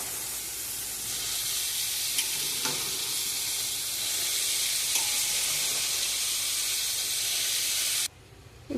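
Cut vegetables, cluster beans and potato, sizzle steadily in hot oil with fried onion and tomato in a pan while being stirred, a close, continuous frying hiss with light scraping that cuts off abruptly near the end.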